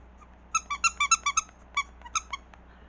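A rubber duck toy squeaks about a dozen times in short, sharp, high-pitched bursts, first a quick run and then a few scattered squeezes, loud and close with no talking.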